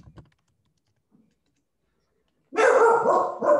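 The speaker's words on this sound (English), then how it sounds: "Oh, that's my dog barking." A dog barks loudly and close in several rapid, clustered barks after a near-silent stretch, with a faint knock or tap at the start and no talk over it.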